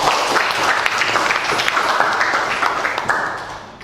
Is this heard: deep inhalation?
no